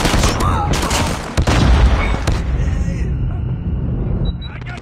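A grenade explosion and gunfire in the Call of Duty Mobile video game: a rapid series of sharp shots and booms up close, followed by a rumbling tail, with in-game voices talking over the battle.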